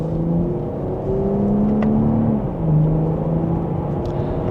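A 2026 BMW M440i Coupe in Sport Plus mode pulls smoothly in second gear, with a steady engine drone rising and falling in pitch as it gains speed. It is heard from inside the cabin, with no talk.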